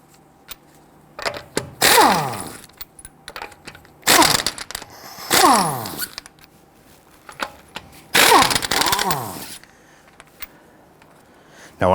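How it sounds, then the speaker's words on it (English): A power tool fitted with a 21mm socket removes lug nuts from the front wheel of a 2008-2013 Infiniti G37 in bursts. Four loud whirring runs wind down in pitch, with quiet gaps between them. "Using a 21mm socket, loosen and remove your lug nuts."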